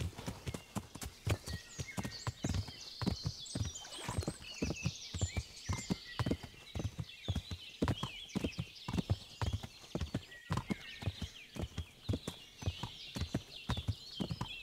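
Horse hooves galloping in the medieval video game Kingdom Come: Deliverance, a rapid, even train of sharp clip-clop hoofbeats heard close and clear for the whole stretch, with occasional higher snorting or whinny-like sounds.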